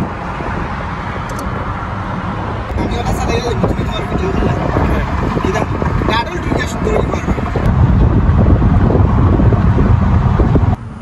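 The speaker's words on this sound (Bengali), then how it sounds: "বাতাস প্রচুর। মনে হচ্ছে গিয়ে ফোনটাকে উড়িয়ে নিয়ে যায়।" Strong gusting side winds buffet a phone's microphone with a loud, rumbling roar that swells and drops throughout, mixed with faint bumps and a low engine-like drone.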